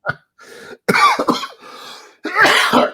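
A man coughs several times in close, loud bursts, with short pauses between harsh hacking fits.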